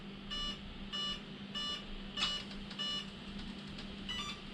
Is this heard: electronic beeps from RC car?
yes